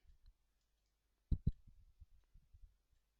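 Two sharp, close mouse clicks in quick succession on an on-screen button, followed by a few softer ticks and faint handling taps in an otherwise quiet room.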